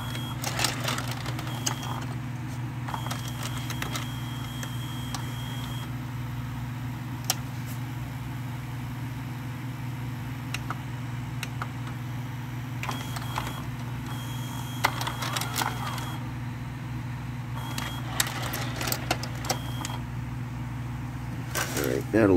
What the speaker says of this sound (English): Let's look at the cam gear in action.